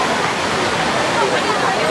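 Water pours steadily from the mouth of the Merlion fountain in Singapore, a dense, even splashing rush that stays close and loud throughout with no voices over it.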